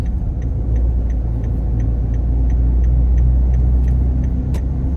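A car passes on a rural road during a road trip toward Baler, heard as a steady low engine and tire rumble with faint periodic ticking, fairly loud and continuous with no talk.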